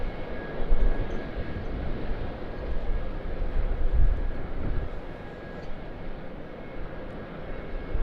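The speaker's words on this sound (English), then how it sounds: "we've also got a Boeing 717 heading down to runway 25" A Boeing 717 airliner taxiing toward runway 25 at Sydney Airport, heard as a steady distant jet-engine rumble with low thumps, moderately loud and continuous, no voices.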